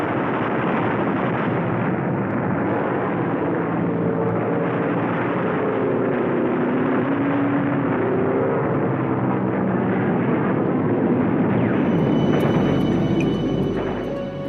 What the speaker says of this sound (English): Rocket-firing Typhoon fighter planes cut a path for them.